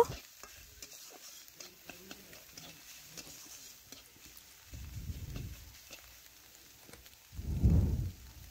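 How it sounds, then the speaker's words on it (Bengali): Snails being stirred and fried in oil in a wok: a quiet, steady scraping and faint sizzle, with two louder stirring bursts, one midway and a heavier one near the end. "এভাবে ভালো করে নাড়াচাড়া করে শামুক আমি ভালোভাবেই ভেজে নেব"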